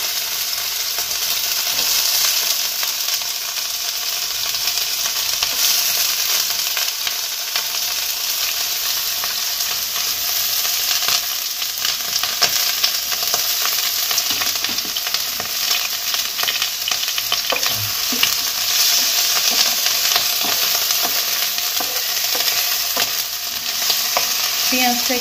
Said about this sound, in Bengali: পেঁয়াজটাকে একটু লাল লাল করে ভেজে নেব।